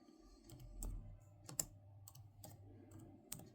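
Someone types on a computer keyboard at a DOS prompt, producing faint, sparse key clicks and taps at an uneven pace, with a low background hum.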